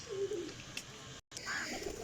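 Low cooing from high-flying pigeons, a couple of soft burbling calls with a brief gap of silence between them, moderately close and quiet.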